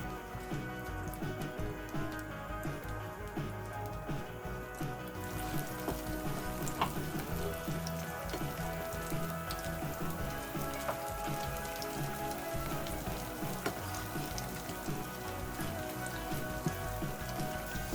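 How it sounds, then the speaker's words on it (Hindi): Pakoras fry in hot oil over a medium flame, giving a dense, steady sizzle and crackle that stays constant and close throughout. "अब हम पकौड़ों को मीडियम फ्लेम पे फ्राई करेंगे।"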